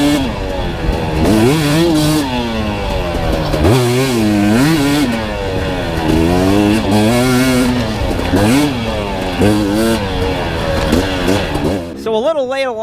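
Dirt bike engine ripping around a lap on a private property in Vermont, loud and close with rising and falling revs as the rider shifts through gears, a buzzing two-stroke-like whine with brief drops between pulls, a voice underneath.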